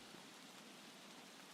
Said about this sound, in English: I put on a pink noise app, which sounds kind of like this.